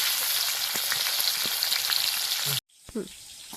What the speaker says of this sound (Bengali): এক পাশ হয়ে গেছে পাল্টি করে দিই এই পাশটা হলেই মাছ ভাজা হয়ে যাবে